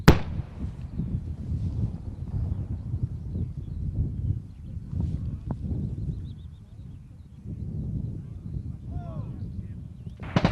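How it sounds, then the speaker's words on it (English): Mortar rounds fire during a US Marine infantry exercise, as the maneuver element advances under suppressing fire. Sharp reports sound over steady low rumbling outdoor noise, with a loud burst at the start and another near the end. "Mortars are still firing for 4 more."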